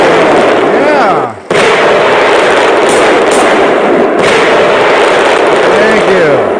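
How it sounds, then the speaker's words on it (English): Fireworks burst in a loud, dense string of sharp cracks and booms, with a brief dropout midway, while people talk over the blasts. "Oh, fireworks."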